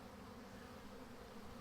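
A honey bee swarm being caught in a high tree drones in a faint, steady buzzing hum that stays even and unbroken for a brief moment.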